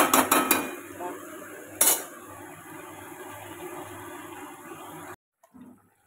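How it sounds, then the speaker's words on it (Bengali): Jackfruit and potato curry with ginger and garlic stir-fried in a pan, with a few sharp utensil scrapes and clinks over a steady low sizzle, then a sudden cut to near silence. "ভালো করে কষিয়ে আদা রসুন এঁচোড় আলু তরকারি ভালো করে কষিয়ে"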